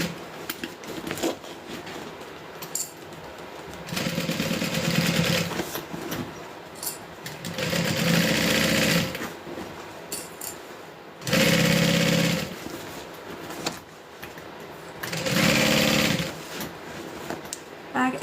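A sewing machine stitches the side seam of a fabric bag in four steady whirring bursts of a few seconds each, close and fairly loud, with quieter pauses of handling and fabric rustle between runs.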